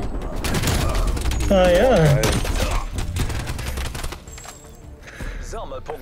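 Suppressed AK-74U bursts in Call of Duty: Black Ops Cold War multiplayer on Nuketown '84, a steady run of muffled shots through most of the clip, with people talking over the gunfire throughout.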